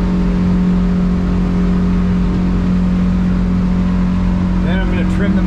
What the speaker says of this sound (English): I can hear them RPMs go up